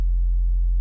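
A Serum 2 synth sine wave bass nudged slightly toward a square wave, one steady, loud low tone under a second long with a faint buzzy harmonic edge, alone.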